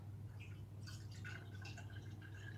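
Pineapple, orange and carrot juice pours steadily into a glass jar, a continuous liquid trickle with small drips and splashes over a low constant hum, no talking.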